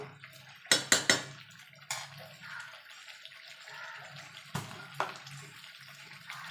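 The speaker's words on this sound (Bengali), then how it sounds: "এবার জল দিয়ে দেবো" Water poured into a pot of braised chicken curry with potatoes, a few sharp splashes and clinks of the vessel early on, then a softer wet gurgle and a couple more knocks later, close and fairly quiet.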